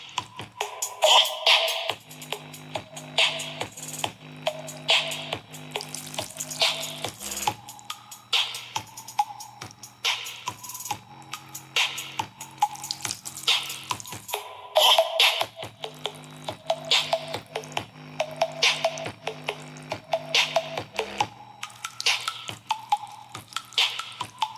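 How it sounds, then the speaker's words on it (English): Music plays steadily from a small waterproof 2.5-inch full-range speaker while water is poured over it, with continuous splashing and dripping mixed into the tune without any pause throughout. "Pour water on the speaker, the music continues to play without any pause occurring."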